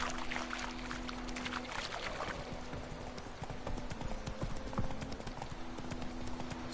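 Horse hooves gallop in The Witcher 3: Wild Hunt, a steady clip-clop rhythm that runs the whole time with faint ambient sound beneath and no talk.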